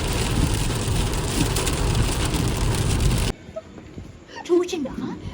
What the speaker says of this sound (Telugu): వాన పడుతుంది